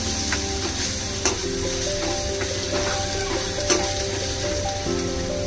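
Prawn masala with spices sautéing in a pan, a steady close sizzle and crackle with occasional stirring knocks, and a faint tonal hum running underneath.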